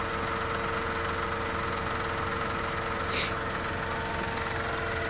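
Car engine idling steadily, a constant low mechanical hum with vibration and faint knocking, close and continuous without talk.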